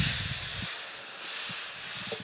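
Steam hisses onto a glued cork craft piece, a soft continuous breathy hiss with a few faint low knocks, close and alone without speech.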